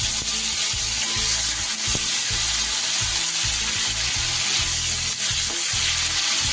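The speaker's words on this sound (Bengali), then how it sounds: "ফোড়নের ওপরে এবার আমি কেটে রাখা একটা টমেটো কুচি দিয়ে দেব।" Chopped tomato goes into hot oil tempered with nigella seeds, giving a loud, continuous close-up sizzle and crackle that holds steady throughout, with faint stirring knocks underneath and no talking.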